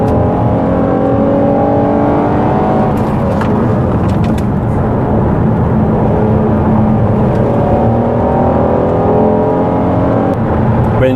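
A Ford Police Interceptor Utility in pursuit mode drives hard, its engine a loud, steady roar with rising revs held close throughout, and no voices.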